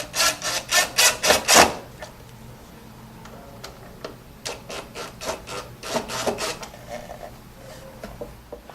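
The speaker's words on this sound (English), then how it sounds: "what we're going to do is drive our 3/4 inch flathead screws" 3/4 inch flathead screws driven by hand into a wooden base cabinet, heard as close rhythmic rasping twists, a loud quick run at first, then sparser strokes, and later another burst.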